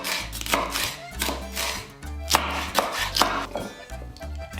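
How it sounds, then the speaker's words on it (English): A knife slices through bell peppers on a cutting board, making a steady run of crisp, close chopping strokes with short pauses between bursts. "And then we cut in slices."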